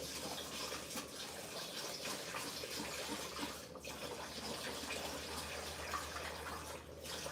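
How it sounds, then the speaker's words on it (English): Rice being rinsed under a running kitchen tap, a steady close wash of water splashing and filling continuously with no pauses or talk. "Make sure that you always wash your rice"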